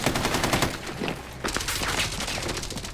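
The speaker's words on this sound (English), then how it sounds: "Oh, I'm getting shot!" Rapid gunfire in a shooting video game, a dense run of close, loud shots like a fusillade with machine-gun bursts and a brief break partway through.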